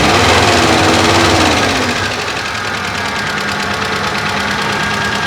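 The engine of a 2003 Toyota DX car runs steadily at idle, a loud close rough mechanical drone with a knocking pulse that eases slightly after the first couple of seconds, with no talk over it.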